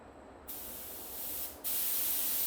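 Two bursts of aerosol spray hiss close by, a short pause between them, the second louder and continuing to the end.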